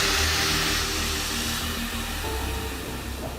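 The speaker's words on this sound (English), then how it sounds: "This is the vacuum pump that works with air, because obviously you cannot work with electricity in the fuel tank." An air-powered vacuum pump used to clean out an aircraft fuel tank during heavy maintenance gives a steady, loud hiss with a low rumble underneath, and the noise carries on without a break through the whole stretch.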